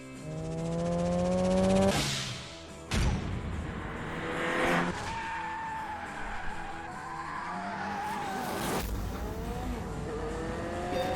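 Sierra RS Cosworth driving in The Grand Tour video game, engine revving through gear changes while tires squeal and skid in repeated drifts, loud and close, with no talking.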